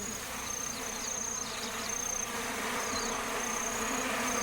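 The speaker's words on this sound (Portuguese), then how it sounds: "Agora é a vez das moscas." Flies buzz around an animal carcass on the Serengeti, a dense, steady insect drone that runs throughout with a faint high whine above it.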